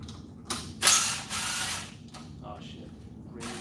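A socket wrench ratchets while working on a Gilera GSM 50 scooter, giving close, rapid clicking and grinding in a few short bursts over several seconds.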